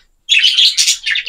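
A pet bird in a small breeding cage chirps loudly and close by, a continuous string of bright, high tweets with a brief stronger burst midway.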